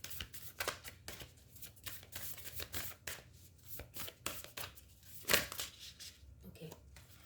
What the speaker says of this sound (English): let me pull out one more card for you.